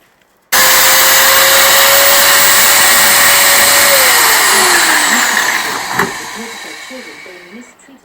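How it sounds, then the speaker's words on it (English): A paddle mixer whirs loudly and steadily while mixing Mapei adhesive, starting abruptly at full speed, holding an even high-pitched drone, then its pitch sags and the noise thins as it winds down with a clunk near the end. "There's the paddle that goes into there like so, and this will enable us to mix up a reasonable amount quite rapidly"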